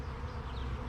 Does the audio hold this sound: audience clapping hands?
no